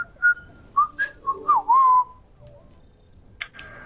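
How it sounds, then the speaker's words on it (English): Someone whistles a short, wavering tune of a few notes close by in Call of Duty: Warzone, then falls quiet with a faint click near the end. "Why are you whistling?"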